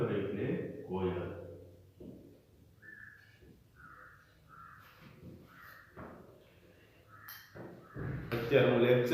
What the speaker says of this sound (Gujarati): બહારથી કાગડાઓના અવાજો જે છે એ સંભળાઈ રહ્યા છે